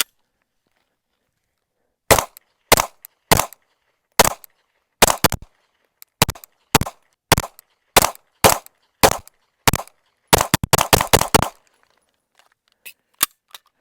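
Test shots from a Sig M17 handgun: a dozen or so sharp, loud single shots at a steady pace, then a fast cluster of rapid shots, then a few last spaced shots, with silence between.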